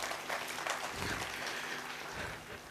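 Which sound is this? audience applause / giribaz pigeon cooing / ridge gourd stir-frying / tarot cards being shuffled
audience applause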